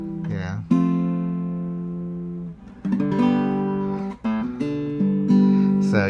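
Open chords strummed on an acoustic student guitar, sustained harmonic chords ringing out one after another, fairly loud and close, with no talking.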